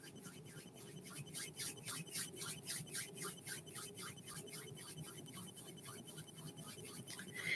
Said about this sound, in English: bring your palms together and begin to rub them back and forth to create some friction heat between them